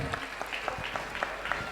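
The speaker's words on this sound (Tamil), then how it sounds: "இந்த கைத்தட்டல் வந்து கம்மியாக கூடாது." Applause from the audience at a dance academy's 16th anniversary celebration, a short burst of clapping heard under talk in a busy hall.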